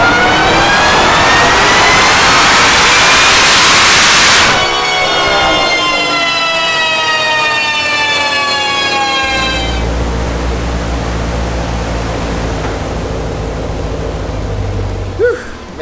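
A supercharged Ford Bronco engine roars through a sustained dyno pull, climbing in pitch with a rising supercharger whine, then lifts off and drops to a low rumbling idle, loud and close throughout with no speech.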